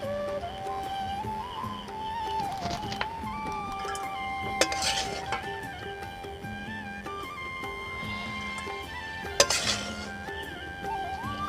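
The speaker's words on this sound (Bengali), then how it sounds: "এখন আমি চাউমিনটা নামিয়ে নিচ্ছি" Fried chow mein stirred and lifted from a pan in a home kitchen, with soft scraping and metallic clinks of utensil against pan, a few sharper clanks standing out over a steady low cooking background, no talk.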